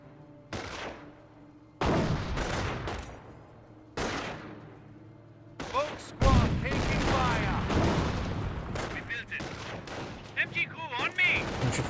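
Gunfire from the video game Company of Heroes, carbine shots and MG42 machine-gun bursts: sharp separate cracks early on, then denser overlapping rattling fire and explosions, with a voice commentating over the battle.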